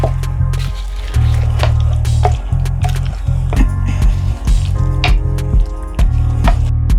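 Kimchi seasoning paste with fish sauce being stirred in a bowl, giving wet squishing and sticky slaps in an uneven rhythm over a low steady hum, close up.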